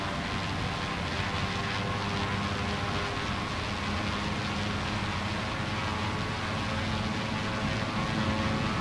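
Steady, loud droning engine noise from a blimp in Microsoft Flight Simulator 2024 over Zurich, Switzerland, a constant broadband roar with low hum lines and no gaps, heard alone.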